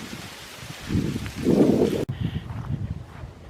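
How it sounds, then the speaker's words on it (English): Steady wind rumbles and gusts across the microphone outdoors on a cold February day at Iroquois Park, swelling stronger midway with low buffeting noise and a faint rustle. "It's windy and it's cold."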